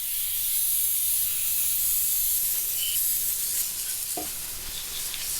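Aerosol engine degreaser hisses steadily as it is sprayed onto the engine of a 1971 Honda CT90 in a workshop, a continuous close, bright spray with no talk.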